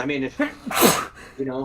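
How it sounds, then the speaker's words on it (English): A single sharp sneeze bursts out between bits of speech, loud and close. "That was a sneeze."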